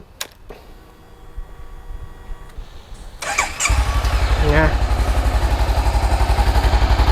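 A Honda CB500X motorcycle with its stock exhaust cranks and catches, then settles into a loud, steady, throbbing idle close by, after a few quiet clicks and rustles.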